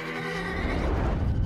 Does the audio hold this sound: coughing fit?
no